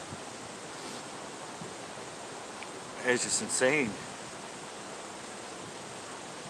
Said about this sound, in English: This morning we've had 26 mile an hour winds, gusts to 40.